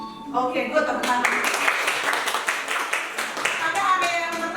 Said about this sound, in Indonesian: Oke, good, tepuk tangan.